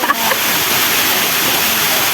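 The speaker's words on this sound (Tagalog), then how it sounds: "amo na ang Anahaw Falls" Steady broadband rush of Anahaw Falls, a waterfall in Guihulngan, heard nearby as continuous loud water noise with a faint voice at the very start.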